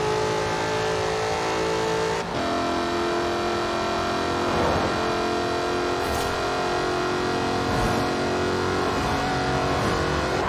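Jaguar F-Type Project 7 in Forza Horizon 4, its engine droning loud and steady with rising revs and a brief shift break, close and continuous throughout without any voices.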